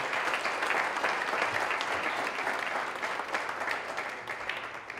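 A large audience at a contestant event gives a sustained, dense round of applause for the contestants, loud and steady from start to finish with no break.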